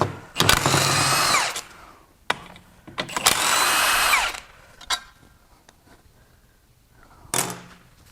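Power tool running on the front cover bolts of a seized, blown 6.1L Dodge SRT8 Hemi engine during teardown: two long loud whirring bursts, then short clicks and a brief final buzz, close up with no talk.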